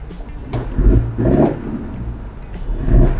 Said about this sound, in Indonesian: Sekalian ngetes suara knalpot.